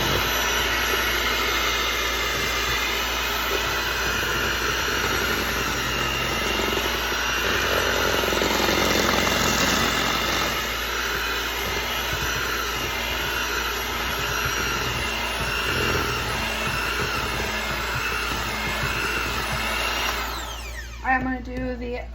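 An electric mixer churns cookie dough in a home kitchen, giving a steady, loud whirring drone that holds for about twenty seconds before trailing off at the end.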